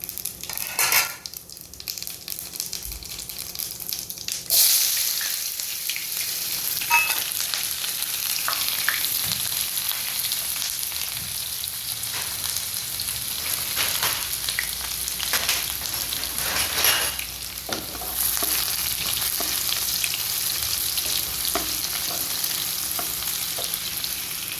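Cumin, spices, cauliflower and potatoes fry in a hot pan, a steady close sizzle with a spoon stirring and scraping against the metal now and then, continuing without any talk.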